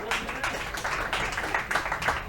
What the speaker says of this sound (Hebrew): כפיים למישאל שעומד על הסאונד